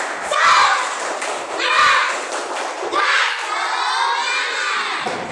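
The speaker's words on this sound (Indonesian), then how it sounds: "Tepuk semangat." Schoolchildren in a classroom perform a spirit clap, with bursts of rhythmic clapping and shouted chants in several loud waves, near and lively, led by a teacher.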